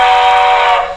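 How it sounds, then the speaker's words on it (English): A SoundTraxx model train decoder plays a steam whistle, one loud sustained tone that holds for about a second and then fades at the end. "I'm going to play the whistle that's on it."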